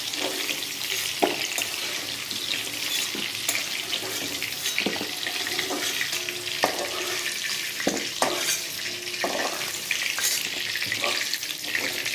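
Vegetables and paneer fry in a pan with a steady, crackling sizzle, broken by occasional clinks and scrapes of stirring, fairly close and continuous without speech.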